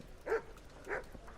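A dog in the Kingdom Come: Deliverance video game gives two short barks about half a second apart, moderately close, over quiet ambient background.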